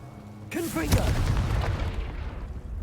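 A Confringo blasting spell explodes in the Hogwarts Legacy video game with a sharp, loud boom just after half a second, then a sustained rumbling roar that carries on under brief game vocal sounds.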